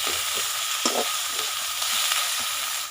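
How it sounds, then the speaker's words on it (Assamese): A steady, dense sizzle of ground spices and ginger frying in hot oil fills the clip, with a few soft scrapes of stirring. "এতিয়া এইখিনি ভাজি আছোঁ"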